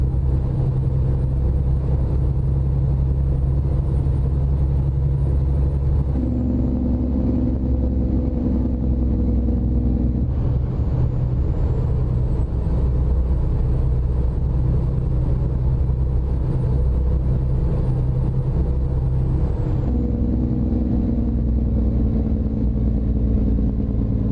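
A steady, loud truck engine drone from the game American Truck Simulator, with deep low rumble, shifting in pitch a couple of times as if changing gear, continuous throughout with no voices.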